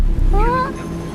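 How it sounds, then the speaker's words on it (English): A cat gives one drawn-out, rising meow close by, over a low rumbling background. "She's literally meowing at the wall."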